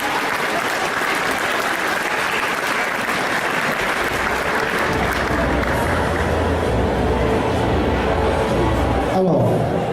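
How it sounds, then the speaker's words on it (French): An audience at the Yggdrasil Indoor 2019 festival cosplay contest applauds a cosplayer in a dress, wig and hat, with dense steady clapping and a murmur of crowd voices throughout, a low rumble entering midway. "rien que pour ça on peut l'applaudir bien fort"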